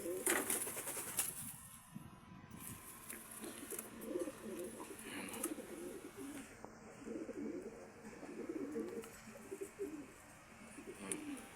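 Domestic pigeon hen in a loft, giving low rolling coos with bursts of wing flapping, close and moderately loud; someone talks intermittently nearby.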